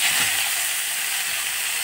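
Mustard greens hissing and sizzling in hot oil in a pan, a steady bright frying noise held throughout at moderate level, with no one talking.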